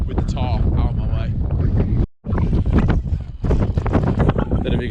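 Wind gusts buffet a tarp shelter at a campsite during a thunderstorm, a loud rushing roar with wind noise on the microphone, briefly cutting out midway before returning, under a person talking.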